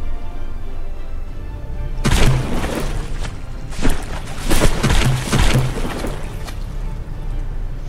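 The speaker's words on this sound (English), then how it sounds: "Still raining shell after shell after shell on it." Rapid volleys of booming naval cannon fire in From The Depths, a battleship battle between a heavy cruiser and a battlecruiser, erupt in dense, overlapping bursts over a low rumbling background, loud and sustained for several seconds.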